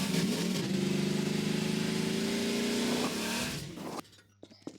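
A vehicle in the video game Garry's Mod kicks in its turbo boost, a sustained engine whine that rises in pitch for about three seconds and then cuts off, leaving a few faint clicks.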